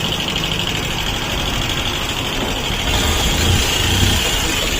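A motorcycle engine idles steadily after a petrol pipe is fitted, with carburettor running and an abnormal internal noise suspected from the head block; the rough, continuous running grows slightly louder toward the end, with no talk.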